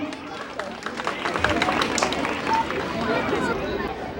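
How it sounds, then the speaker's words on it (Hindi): Applause rings out at a Republic Day school event at a government high school, a dense, steady wash of clapping from a crowd that carries on throughout, mixed with chatter and a voice over it. "जोरदार तालियां"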